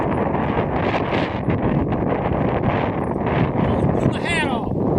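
Strong gusting wind roars and buffets the microphone throughout, loud and continuous, with a voice faintly underneath, at Celina Lake in Hoosier National Forest.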